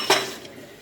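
Dishes and cutlery clatter briefly in a home kitchen sink during washing, a single bright clink burst near the start that fades into soft running rinse noise.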